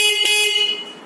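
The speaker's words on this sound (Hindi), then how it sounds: "तो हॉर्न का साउंड भी आप सुन सकते हो," Stock horn on a Hero Honda Deluxe motorcycle converted to electric power, one steady bright blast of about a second, loud and close, tailing off at the end with no talk over it.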